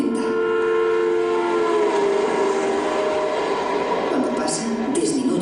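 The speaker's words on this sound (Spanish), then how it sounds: "Según se acerca el tren, el tono del silbato aumenta." A train approaches with its whistle sounding, the sustained tonal blast and rumble of the rail cars continuous and prominent, with a voice speaking over it.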